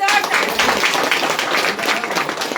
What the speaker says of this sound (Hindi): इनके लिए भी एक बार जोरदार ताली